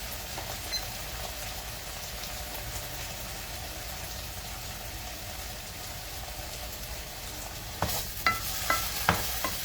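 Beef sizzling and frying steadily in a pan for a stir-fry, a continuous close hiss with a few sharp clinks of stirring or utensil knocks near the end, no talking.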